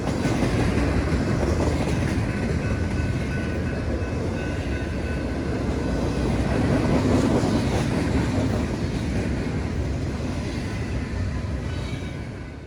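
A BNSF or UP train rolls past somewhere in the Arkansas Delta, a steady, close, loud rumble with a faint clickety-clack of rail cars that holds for the whole stretch and eases off slightly at the end.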